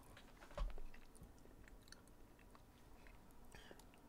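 Person chewing and eating food close to a microphone, soft moist chewing with one louder bite early, then quieter mouth sounds against low background noise.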